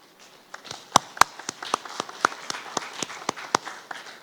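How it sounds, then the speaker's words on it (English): Sparse, uneven clapping from a small group at a graduation ceremony, individual sharp claps standing out in an irregular rhythm, moderately close. "Please give yourselves a round of applause."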